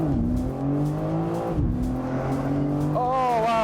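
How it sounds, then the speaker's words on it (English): A BMW M4 Competition Convertible accelerates hard, its engine note rising in pitch through the gears with brief dips at the shifts, loud and close, ending on a higher climbing whine. "And let's set it off with one more acceleration."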